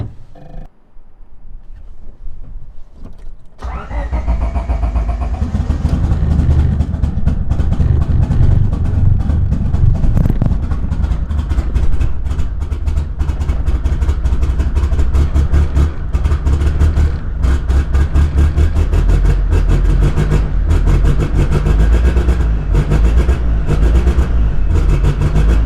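A turbocharged Honda Civic hatchback engine with a stock MAP sensor turns over, catches after a few seconds, then settles into a loud, steady, slightly rough idle close by.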